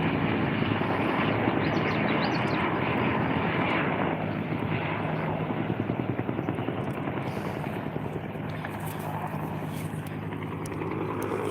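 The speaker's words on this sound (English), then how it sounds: "here comes another chopper" A helicopter flies over a brush fire in a riverbed in Riverside County, its steady rotor chop and engine drone loud and close, thinning slightly as it moves on.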